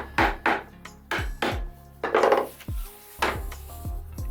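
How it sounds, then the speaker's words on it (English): Clamping a wooden lock miter joint in a workshop, a series of about ten distinct knocks and clacks of wood and metal clamp parts, irregularly spaced and close up, with a brief rasping scrape partway through. "I am going to clamp this one"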